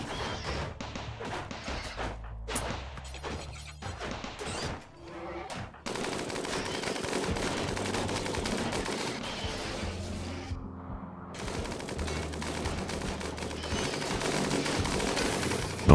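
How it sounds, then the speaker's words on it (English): Rapid bursts of automatic gunfire in the RimWorld game, dense crackling volleys that pause briefly and then resume, loud and continuous. "Oh my goodness, stop shooting so far away"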